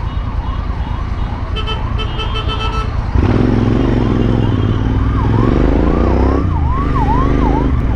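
An ambulance siren wails past on a road, its rising and falling tone looping steadily over a constant loud engine drone from a Royal Enfield Interceptor 650 motorcycle.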